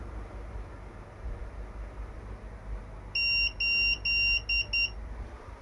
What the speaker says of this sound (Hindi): सुबह से ये बीपी बज रहा है